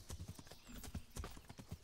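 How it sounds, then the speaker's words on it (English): A horse in the Kingdom Come video game climbs a hill, its hooves clopping in a steady, close, plodding rhythm of repeated footfalls, with a faint snort mixed in. "We're getting close now, so the horse is having a hard time coming up this hill."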